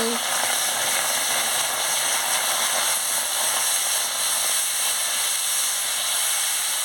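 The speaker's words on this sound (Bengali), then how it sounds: "কড়াটা গরম হয়ে গেছে এবার সর্ষে বাটাকে দিয়ে দিচ্ছি জল দিয়ে দিচ্ছি" Mustard paste and water tipped into a hot kadai, giving off a steady loud sizzle and hiss that holds without a break throughout.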